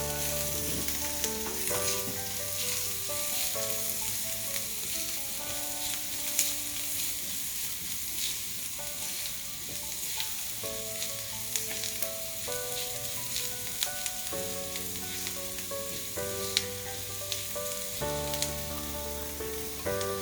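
Turmeric being stirred into ingredients sizzling in a frying pan for a Nepali dumpling soup, a steady close frying hiss with scrapes and clinks of the spoon running throughout; music plays underneath, no talking.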